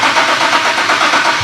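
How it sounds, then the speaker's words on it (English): A 2008 Nissan 370Z with a fuel control fault cranking and firing up, a brief loud churning engine burst heard up close with no voices. "we want to go ahead and start the car"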